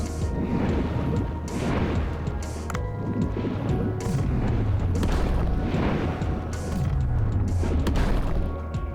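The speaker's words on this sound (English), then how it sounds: "Acquire valuable minerals with your pickaxe to upgrade your weapons." Repeated crunching impacts from a pickaxe striking mineral ore underwater in Dave the Diver, with booming thuds and clattering hits over a dense game soundscape, steady and fairly loud throughout.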